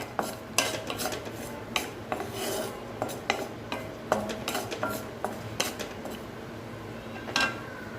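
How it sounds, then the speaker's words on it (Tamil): Chopped coconut pieces sautéed in oil, with repeated sharp clinks and scrapes of a utensil stirring against a metal pan over a faint steady sizzle, close and clear with no talk. "கட் பண்ணிவிட்டு அதை அந்த எண்ணெயிலே கொஞ்சம் வதக்கிக்கலாம்"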